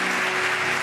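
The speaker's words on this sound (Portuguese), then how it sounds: "Você pode aplaudir esses irmãos aqui na frente?" Congregation applauding in church, a dense, steady wash of clapping that fills the space evenly from start to finish with no voices on top.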